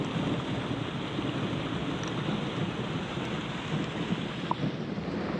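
Steady, dense roar of a heavy storm with rain and rumbling thunder over a farm field, continuous and loud with no distinct breaks, no voices.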